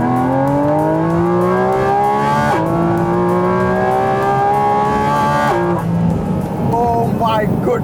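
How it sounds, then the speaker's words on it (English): A 2023 Porsche 718 Cayman GT4 RS engine screams loudly up toward 9000 RPM in long rising pulls, with brief dips at gear changes before climbing again, close and dominant. "the GT4 RS gets 9000 RPM and the sound, well, forget about any adjectives."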